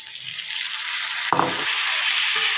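Tomato and Gobindobhog rice fry in a pan with a constant close sizzle, broken midway by a sudden louder burst of hissing and clatter before the even frying resumes.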